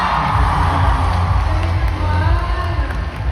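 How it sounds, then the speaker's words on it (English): Audience at a K-pop fan meeting in Manila applauding and cheering, a loud continuous crowd roar with clapping and shouts, steady and close, filling a large venue. "And Sean, let's give a round of applause."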